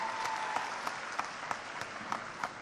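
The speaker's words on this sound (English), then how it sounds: "Please put your hands together for her." An audience at a Jamaica 4-H youth agriculture symposium applauds a young speaker, a steady wash of many clapping hands at moderate distance with sharper individual claps punctuating throughout.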